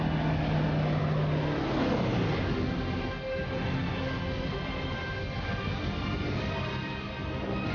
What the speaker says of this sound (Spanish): Claro, la avioneta fumiga la zona agrícola y sobre todo el arrozal.